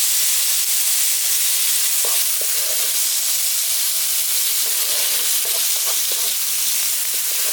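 Chopped tomato hits hot oil in a frying pan while a bhindi curry with poppy seed and mustard paste cooks, giving a loud, steady sizzle with faint stirring clicks, without any voices.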